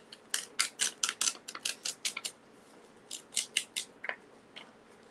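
A rub-on transfer sheet peels off a Christmas card in rapid bursts of dry crackling scrapes, roughly a dozen quick strokes. After a short pause a few more follow, close and fairly quiet with no talk.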